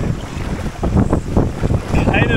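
Strong wind gusts roar across open water in a rough, steady rush on a lake in Saimaa during a multi-day canoe trip with an inflatable boat. The sound is loud and close, buffeting the microphone, and no one speaks.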